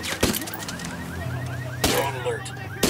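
A car alarm in the video game Ghost Recon Wildlands wails with rising, repeating chirps over a low hum, broken by a few sharp bangs.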